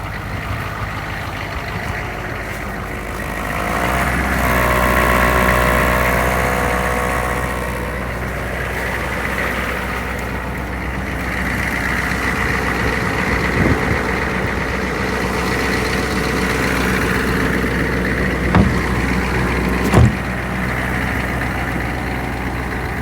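A Humvee M1123 truck's diesel engine idling nearby, a steady low rumble that swells slightly and settles, with a few small clunks along the way.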